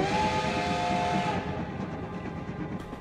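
A steady, loud train whistle sounds over rumbling engine noise, then cuts off, leaving the low rumble of a train pulling away.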